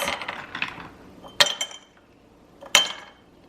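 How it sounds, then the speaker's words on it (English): A few hard clinks of ice cubes knocking into a glass jar, two sharp bright hits spaced apart after some soft rattling, close and fairly quiet. "I'm gonna pop in a few ice cubes."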